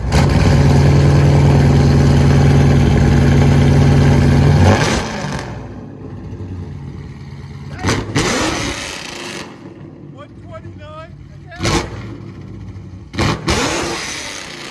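A Dodge Scat Pack with its factory resonators cut off, revving hard: a loud, sustained roaring blast for the first five seconds, then a few sharp throttle blips and pops over a rumbling idle, with people talking between revs.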